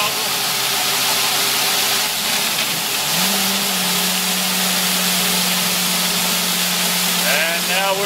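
A residential water turbine under spray from a 9/16 inch nozzle rises into a steady hum partway through and holds it beneath a loud, constant rushing spray.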